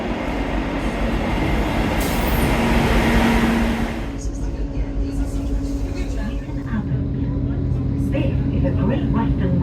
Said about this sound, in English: This is a Great Western Railway service to Teignmouth.